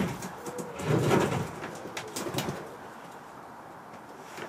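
A pigeon gives a soft, low cooing call close by, a brief throaty burst followed by quieter murmurs over faint background rustle.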